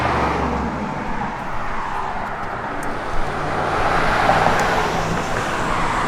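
A 1972 Chevrolet Nova engine hums steadily while driving along a road, with broadband road and wind noise, loud and continuous, no talking.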